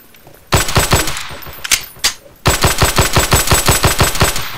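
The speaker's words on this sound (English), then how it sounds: "Hey, Alice, gonna shoot you with my pistol." Gunfire in the video game Garry's Mod: a loud, close burst of rapid shots, a couple of isolated bangs, then a longer, evenly paced volley of repeated shots to the end, with no voices.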